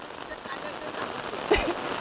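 Heavy rain patters steadily on surfaces during a village cricket match, a dense close hiss of drops with a faint voice briefly underneath.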